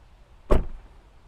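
A 2026 Tesla Model Y front door with double laminated glass shuts in one solid, close thump that decays quickly into quiet.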